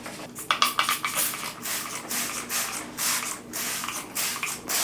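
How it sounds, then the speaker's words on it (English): Repeated short hissing bursts of a spray bottle misting, several quick squirts in irregular rhythm, close by. "So we're just gonna go about spraying this down."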